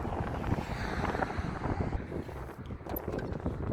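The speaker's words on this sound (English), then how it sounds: "The wind is really bad right now" Strong wind buffets the microphone outdoors in continuous rough, gusting roars with no talking.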